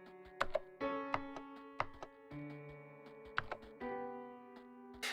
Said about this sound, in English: The click sound reminds me of like a mechanical keyboard